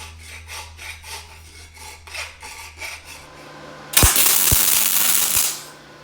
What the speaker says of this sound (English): A little bit of joint prep with a file.